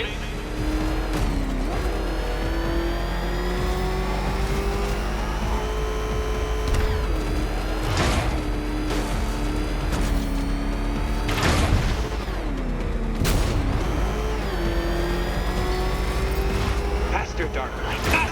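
Batmobile engine racing in Batman: Arkham Knight, a continuous loud roar with repeated revving surges and sharp bursts, under a villain's taunting game dialogue.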